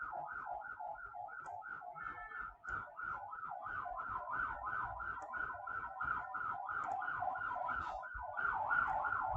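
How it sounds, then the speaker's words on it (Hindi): A wailing siren cycles steadily up and down, faint and distant, running unbroken throughout with no voices over it. "सायरन की आवाज़ आती है तुमको वीडियो में?"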